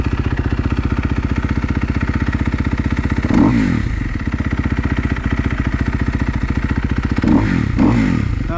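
A rebuilt 2012 Kawasaki KX250F dirt bike engine runs loud and close with a fast, steady four-stroke pulse, rising in two short revs partway through before settling back to a rough idle.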